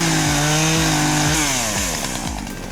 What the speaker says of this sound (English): Just grab a stubborn chainsaw and some tight shorts.